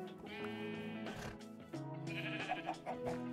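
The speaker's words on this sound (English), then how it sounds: "there's just an insane amount of sheep in here that we need to get out of the castle grounds" Sheep bleating in Minecraft, a crowd of them packed into castle grounds, with several overlapping bleats coming close together, fairly loud and near, and no talking.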